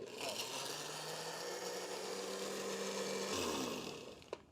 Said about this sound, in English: So we'll just blend this